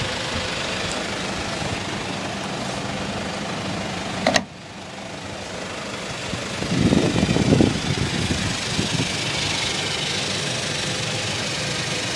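A 2011 Toyota Hilux 3.0-litre inline-four diesel pickup idles with a steady, knocking rumble. There is a sharp click partway through, and the engine's tone briefly swells before settling back.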